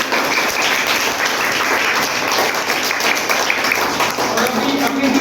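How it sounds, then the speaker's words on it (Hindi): A class of schoolchildren claps loudly for themselves after cleaning their classroom, a dense, sustained burst of applause filling the room at even strength from start to finish. "तो आप अपने लिए जोरदार ताली बजाएंगे सबसे पहले"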